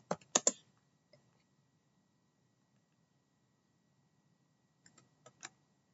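Command typed into a terminal on a computer keyboard: a quick burst of close key clicks, a long pause, then a few more taps, quiet and alone.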